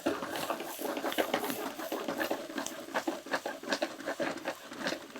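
Onions and green curry leaves sizzle and crackle in hot oil over a high flame for potato podimas, a steady close spatter of frying with no talk.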